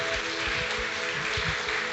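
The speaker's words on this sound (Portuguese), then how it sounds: "Aplauda o Senhor Jesus." A church congregation at a Sunday Communion service applauds in a dense, continuous wash of many hands clapping at once, steady and even from start to finish, with no voices standing out.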